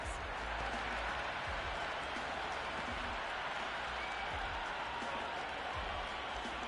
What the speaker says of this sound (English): Will you listen to that crowd? They are loving this.